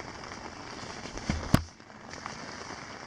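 Heavy rain hisses steadily on a tent at a lakeside campsite on Red Rock Lake in the Boundary Waters, fairly faint, with a single sharp crack midway.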